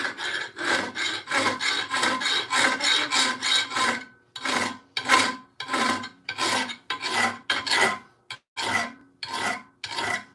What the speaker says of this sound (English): Files only cut one way, and it's very important when you're sharpening a hand tool